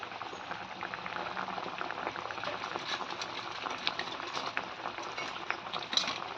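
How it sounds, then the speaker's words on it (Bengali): Water bubbles at a steady boil in a pot for cooking fish, quiet and close, with a dense, continuous burble of popping bubbles. "এই দেখো জলটা ফুটে উঠেছে"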